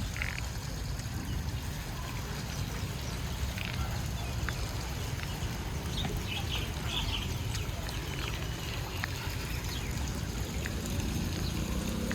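Rain falling beside the Mekong River makes a dense, continuous hiss with scattered drips and patters, steady and fairly close, with no talking.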